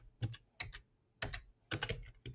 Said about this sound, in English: I'm just going to go ahead and type